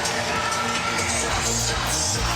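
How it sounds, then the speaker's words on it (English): A basketball crowd at WVU Coliseum in Morgantown roars and cheers on its feet, a dense sustained crowd noise with scattered whoops rising near the end. "The crowd inside WVU Coliseum. They're on their feet in Morgantown."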